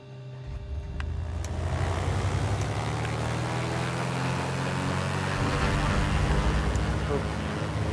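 The engines of a Trislander aircraft in Microsoft Flight Simulator 2020 spool up into a loud, steady droning roar that holds continuously at high throttle.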